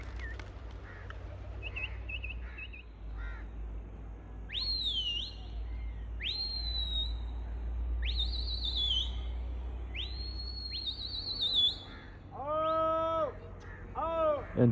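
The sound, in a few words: whistling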